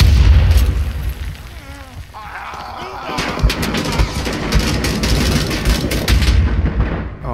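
A loud explosion booms in the Vietnam War video game Rising Storm 2: Vietnam, followed by rumbling battle noise with scattered gunfire and distant blasts.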